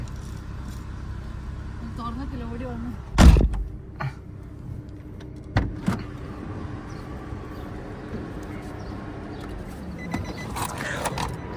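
A car door is shut once with a single solid thud on a family drive to the airport in Bahrain, amid ongoing conversation and faint cabin noise.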